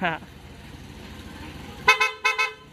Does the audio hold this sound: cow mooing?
no